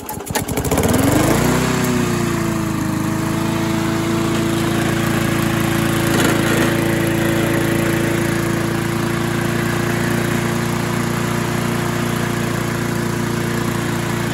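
A restored Weedeater lawn mower engine starts and settles into a loud, steady, close-up running drone that holds evenly to the end.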